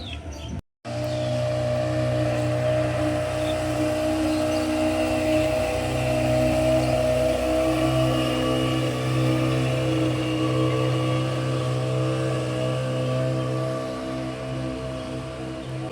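A speedboat motor hums steadily on the water at a park lake, a continuous droning engine tone lasting about fifteen seconds that fades slightly near the end, with faint outdoor ambience and no speech.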